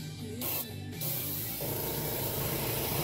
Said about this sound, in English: when you go to spray, spray more of the paint on top of the tape rather than the metal itself